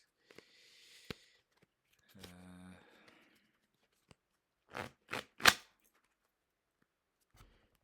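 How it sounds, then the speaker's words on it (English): Playing cards being shuffled by hand in a quiet room, heard as a brief riffle followed by a few sharp snaps and taps of the deck, close and fairly soft with long silent gaps. "I'm literally just anxiously shuffling cards right now"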